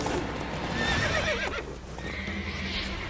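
A horse whinnies loudly with a rising, wavering cry in The Witcher 3, then hooves clatter against a steady background of game ambience.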